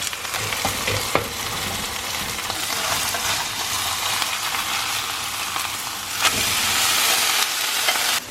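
Kebab patties sizzle loudly and steadily in a pan over high heat, a dense continuous frying hiss with occasional sharper crackles and pops, close up and with no talking.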